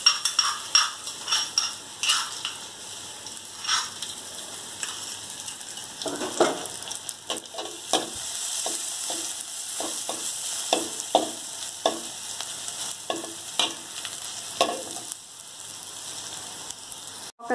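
Garlic sizzles and crackles in about a spoonful of hot oil in a wok, with a utensil stirring and scraping the pan now and then.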